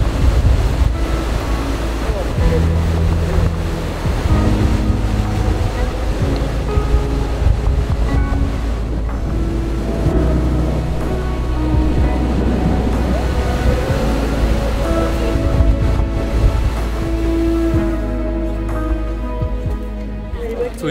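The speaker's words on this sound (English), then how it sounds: "the wild, crazy ocean" Wild ocean waves crash at Essaouira, Morocco, in a loud, unbroken roar of surf mixed with wind buffeting, lasting the whole stretch.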